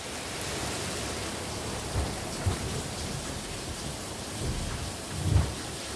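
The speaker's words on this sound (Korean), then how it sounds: "빗소리가 너무 크죠?" Heavy rain pours steadily through an open window during an indoor Buddhist lecture, a dense continuous hiss with a few low thunder rumbles, the strongest near the end. No voices are heard.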